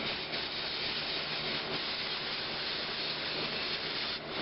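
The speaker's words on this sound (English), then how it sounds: "So I'm going to take my airbrush and try to maybe smooth that out." An airbrush sprays paint in a steady, close hiss that holds unbroken for several seconds inside a spray booth, with a brief dip near the end.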